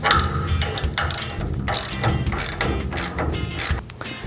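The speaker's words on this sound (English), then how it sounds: "We'll run these down with a wrench, and then we'll repeat the same process on the other side." Wrench tightening bolts during assembly of a Laguna P Flux cyclone dust collector, giving rapid ratcheting clicks in repeated close bursts with no talking.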